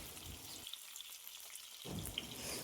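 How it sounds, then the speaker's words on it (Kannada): Ingredients for chicken sambar frying in a pan make a faint, steady crackling sizzle that drops briefly, then resumes at the same quiet level. "ಈಗ ಎಲ್ಲ ಹಾಕಿ ಫ್ರೈ ಮಾಡ್ತಾಯಿದ್ದೀನಿ"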